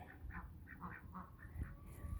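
Ducks in a backyard duck pen quack in a quick series of soft, nasal calls, fairly faint and close together over a quiet outdoor background.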